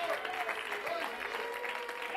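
A church congregation clapping their hands in worship, a dense, steady wash of many hands with a voice faintly woven through it.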